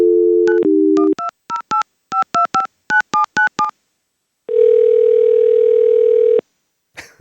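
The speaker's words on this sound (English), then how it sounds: "What if I'm dialing the wrong number?" A phone line tone gives way to a rapid run of touch-tone dialing beeps, followed by a long steady ringing tone.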